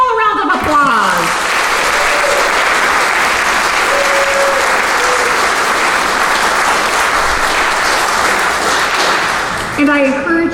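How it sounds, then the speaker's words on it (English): A large audience at a congressional art awards ceremony for young artists gives sustained, even applause for about ten seconds, with a voice briefly heard before and after. "Let's give them all a round of applause."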